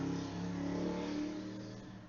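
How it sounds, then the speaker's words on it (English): A steady engine drone rumbles in the background, rising slightly then easing off, faint and low. "sorry about the motorcycle sounds"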